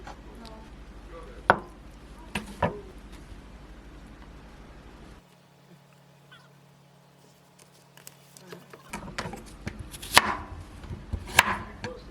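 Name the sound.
knife chopping tofu on a cutting board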